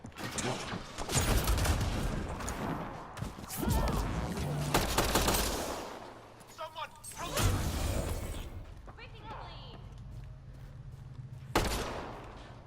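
Gunfire in Mass Effect: Andromeda, irregular bursts of shots and crashing impacts spread across the scene, loud in clusters with quieter gaps, mixed with game voices and mechanical noise.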